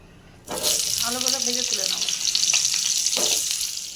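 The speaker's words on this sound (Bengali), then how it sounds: "এবার আমি দিয়ে দেবো এর মধ্যে আলুগুলো ভেজে তুলে নেব" Potatoes dropped into hot oil in a wok set off a sudden loud, hissing sizzle that stays strong and steady, with a brief voice heard under it early on.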